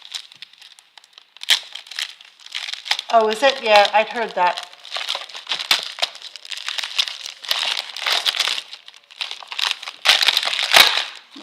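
A paper craft pack is torn open and crinkled in short, crisp bursts of rustling that continue throughout, close and fairly loud, while someone talks briefly partway through.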